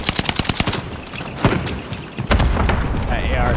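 Heavy booming impacts of an artillery strike in a video game, a series of sharp blasts early on followed by a deep rumbling explosion, loud and close, with players talking over it.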